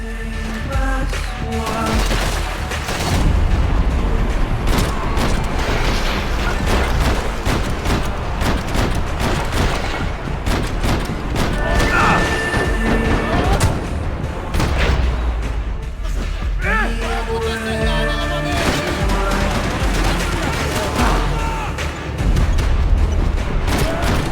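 Gunfire and grenade blasts erupt in a Max Payne 3 firefight in an airport departure lounge. Loud, dense volleys and booms overlap almost without break, with a few brief lulls between heavy bursts.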